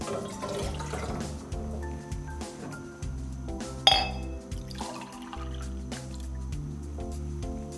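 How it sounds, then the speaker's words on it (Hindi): Water is poured into a pan with soft trickling and dripping, one sharp metallic clink partway through, all under quiet background music. "2 कप पानी शामिल करेंगे पैन में"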